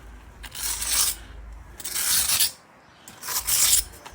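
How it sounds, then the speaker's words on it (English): A jointing iron scrapes along a patio grout joint in three separate rasping strokes, each about a second long, with short pauses between them and no talking. "Back over with a jointing iron, or should I say a jointing spoon."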